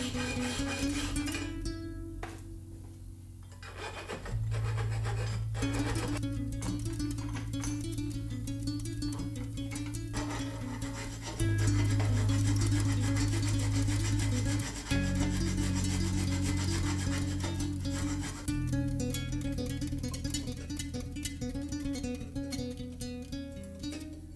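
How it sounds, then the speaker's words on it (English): Triangular scraper working the slot of a wooden jointer hand plane, giving a steady, close scraping and rasping sound that continues throughout with shifting pitch and no talking. "using a triangular scraper to clean out the board."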